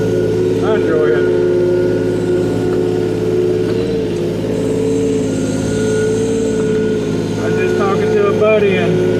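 A John Deere 35G compact excavator runs steadily while moving mud, its engine holding a constant, close, droning hum with little change over the whole stretch.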